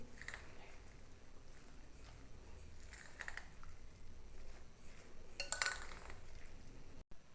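Chicken and oats tikki mixture being stirred with fresh coriander in a bowl: soft, quiet scraping and light clinks of a utensil against the bowl, with one brighter clatter near the end, no talk.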